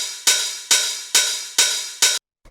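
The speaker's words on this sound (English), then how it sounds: "we've got this 909 hi-hat, which sounds like this" A 909 hi-hat drum sample plays five crisp, evenly spaced hits, each a bright burst with a short decaying tail, loud and alone, followed by a brief pause.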